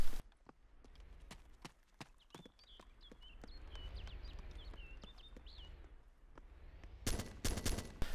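Gunfire from the military shooter ARMA 2, played in third person: a string of sharp, separate shots spaced through the stretch, building to a dense loud burst near the end, over a low rumbling background.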